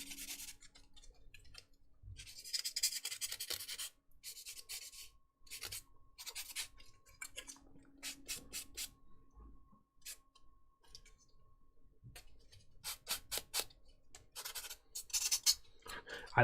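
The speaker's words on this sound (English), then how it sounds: "I like to sand the nubs" Short bursts of rubbing and rasping as a sander smooths the nubs off plastic parts from a Bandai Perfect Grade Millennium Falcon model kit, close and fairly quiet, with pauses between strokes.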